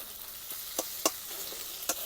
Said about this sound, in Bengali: টমেটো কুচি দিয়ে ভালো করে আমি এখানে নেড়ে নিচ্ছি।